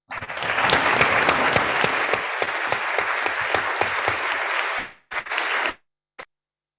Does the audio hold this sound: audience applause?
yes